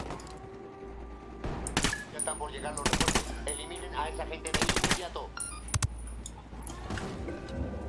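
Gunfire in the Ghost Recon Wildlands video game: loud bursts of automatic fire and single sniper shots spread across a tense, noisy battle soundscape, with clustered volleys recurring over several seconds.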